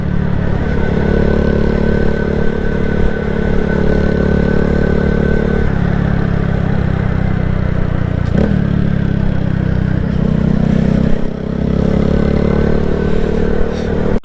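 A 2022 Honda Grom motorcycle engine runs loud and close outdoors, a steady idling drone with slight rises in pitch and a brief clatter partway through.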